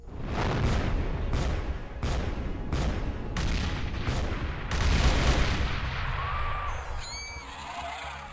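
Explosions go off in XPiratez: a run of heavy, evenly spaced booming blasts, each with a short rumbling tail, then a bigger final burst that fades into quieter game effects.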